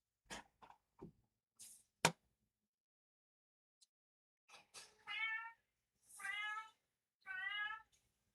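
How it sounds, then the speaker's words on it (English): A cat meows loudly several times, with short sharp cries early on followed by three longer, drawn-out wailing meows close to the listener, separated by silent gaps. "That cat is loud."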